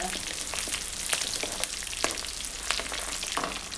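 Chowlikai (cluster beans) fry in coconut oil, a dense, constant sizzle and crackle with scattered pops, close and even throughout, with no one speaking.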